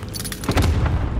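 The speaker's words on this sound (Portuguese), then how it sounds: "Tô levando tiro!" Gunfire bursts in Call of Duty: Modern Warfare, a short cluster of booming shots with a heavier thud in the middle, loud and close, with no talk over them.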